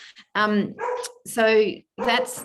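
A dog barks a few times at home, close and fairly loud, in short separated bursts while someone speaks during an online talk.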